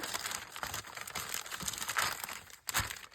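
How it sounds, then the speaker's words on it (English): Paper scraps and tape ripped and crinkled by hand at a craft desk, a steady close rustle with several sharper tearing bursts, no talking. "I should have just cut it. Rather than rip it."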